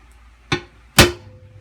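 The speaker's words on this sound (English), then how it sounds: "I'm going to grab a punch and go ahead and punch the center of it" Two sharp metallic strikes of a center punch into metal, about half a second apart, the second louder, each with a brief ringing decay.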